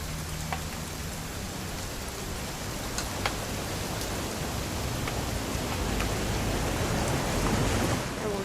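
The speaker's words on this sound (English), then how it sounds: "It's gonna rain the whole weekend," Rain falls steadily in What Remains of Edith Finch, a constant wash of hissing drops broken by scattered sharper drip clicks, swelling slightly toward the end with no one speaking.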